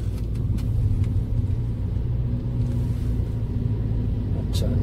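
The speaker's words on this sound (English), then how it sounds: "Road is too narrow and there's another car coming." A car rolls along a narrow road in a quiet UK fishing town, its engine giving a steady, close, low rumble that holds level throughout with no sharp changes.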